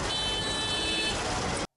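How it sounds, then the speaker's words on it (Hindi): Car horns honk on an Indian road in dense traffic, a steady wash of engine noise and beeping lasting under two seconds, loud and close, with no voices. "चारों ओर से आती हुई हॉर्न की आवाज़"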